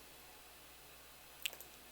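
A single sharp mouse click on a PC while assigning Optishot golf simulator control box buttons, followed by a couple of fainter clicks, heard alone against a quiet background hum.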